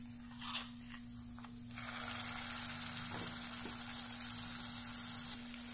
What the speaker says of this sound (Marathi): हा मसाला आपण छान गोल्डन ब्राऊन होईपर्यंत आपण छान भाजून घेणार आहोत तेलामध्ये